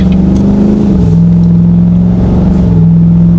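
A GMC Yukon's 5.3 V8 engine drones steadily at highway cruising speed with a deep exhaust hum, the pitch dipping and rising as gears shift under moderate acceleration.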